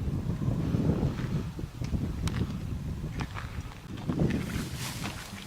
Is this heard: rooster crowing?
no